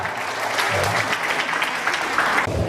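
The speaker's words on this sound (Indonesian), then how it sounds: "Kita tepuk tangan lagi untuk semua pembicara di depan kita." An audience at an open religious debate applauds the speakers with a brief, steady round of clapping, with some voices mixed into it.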